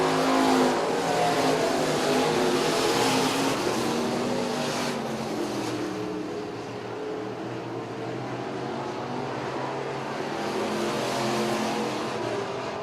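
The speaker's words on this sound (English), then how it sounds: "White flag will fly, 1 lap to go for Luke Sanoff." Street stock race cars roar around a dirt oval on the final lap of a heat race, dense engine noise that rises and falls as cars pass, loud and continuous.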